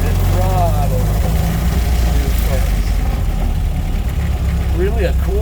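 A 1927 Chevrolet Capitol AA delivery truck engine runs steadily at a loud, low idle, with a continuous rumble throughout. Faint chirping sounds rise above it in places.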